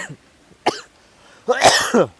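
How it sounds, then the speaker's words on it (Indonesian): A person coughs a few times close up, one short cough followed by a longer, harsher burst, with no talking. "batuk dulu ya, bentar"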